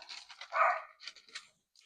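Puppies barking and yipping indoors, a few short, high barks and whines over about two seconds, moderately close with no talk.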